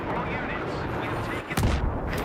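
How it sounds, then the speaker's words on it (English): Anti-aircraft gun firing in the video game Battlefield 3, rumbling booms under a constant roar of battle noise, with one heavy low blast standing out near the end. "one of my victims got his revenge by getting into the anti-aircraft gun"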